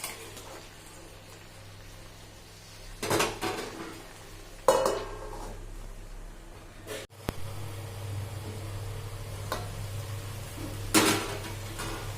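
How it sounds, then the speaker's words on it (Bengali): Vegetable sabji is stirred in a pan with a utensil, bringing a few scraping clanks and knocks against the metal over a low background hum, and one sharp clatter partway through. "এবারে আরও কিছুটা নেড়ে চেড়ে নিয়ে আমি এটাকে ঢাকা দিয়ে দেব।"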